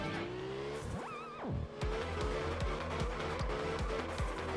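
A car in the video game Absolute Drift spins out mid-drift, its engine revving and whining in rising, wavering pitches over screeching tires, then settling into a rhythmic pulsing engine drone.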